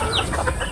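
Free-range chicks cluck and peep close by in a brief burst of overlapping calls against a steady background hiss.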